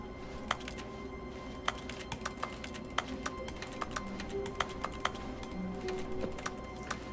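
Rapid keyboard typing in The Stanley Parable: Ultra Deluxe: a steady run of sharp key clicks with occasional louder strikes, close and clear over a low hum of office ambience, with no talking.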